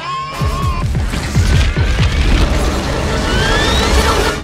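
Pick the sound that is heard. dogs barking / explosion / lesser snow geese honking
explosion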